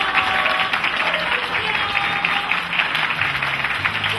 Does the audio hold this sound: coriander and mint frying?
no